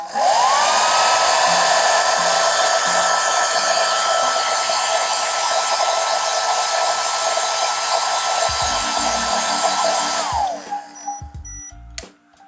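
A Vitek 1600 W hair dryer blows steadily for about ten seconds, powered through an 800 W pure sine wave inverter from AliExpress, then cuts out abruptly as the inverter trips into protection, leaving faint clicks and near silence.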